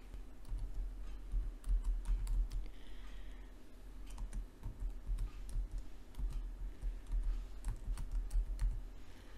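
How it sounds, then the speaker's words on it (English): A caption typed on a computer keyboard: rapid, irregular key clicks close by, in bursts with brief pauses, over a quiet background. "And I'll type this caption."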